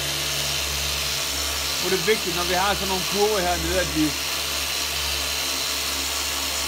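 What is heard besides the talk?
polishing machine with polishing pad spinning on car paint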